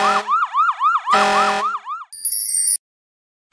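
A loud fire engine siren alternating between rapid yelping bursts and a wailing tone, ending with a short high electronic beep.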